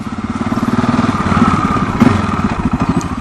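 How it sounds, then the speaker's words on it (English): A Yamaha XT 660 Z single-cylinder motorcycle engine putters at low revs during slow maneuvering, a steady close thumping pulse with slight throttle variations throughout. "Actually, this motorcycle is so nice to make maneuvers."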